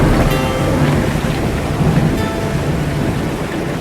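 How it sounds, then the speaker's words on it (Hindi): A thunderstorm with heavy rain, staged as a sound effect in a Hindi Ramayan audio drama, gives a steady, loud wash of rainfall with low rumbling thunder rolling underneath, continuous for the whole stretch, with no voices. "लीजिए महाराज, वर्षा आरंभ हो गई।"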